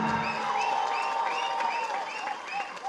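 Audience clapping runs steadily throughout at moderate level, with a tonal music or voice line riding over the applause.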